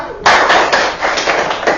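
A fifth-grade class plays a counted clapping game, a sharp onset of group claps followed by a quick run of rhythmic hand claps, close and loud in a classroom.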